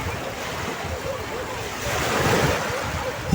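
Sea waves wash onto a beach in a steady, rushing surge, building slightly louder toward the end, with wind buffeting the microphone and no clear talking.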